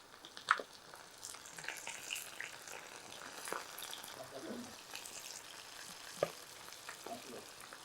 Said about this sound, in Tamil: இப்போது அது ஃப்ரை ஆகட்டும்